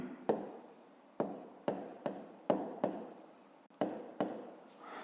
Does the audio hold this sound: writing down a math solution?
yes